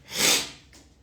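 A person sniffs Vicks VapoRub through the nose: one sharp, close nasal inhalation peaks early and fades, followed by a fainter second sniff.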